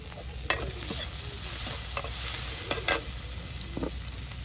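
Small Baila and Icha fish fry in a pan in a rural kitchen, with a steady close sizzle broken by sharp scrapes and clicks of stirring.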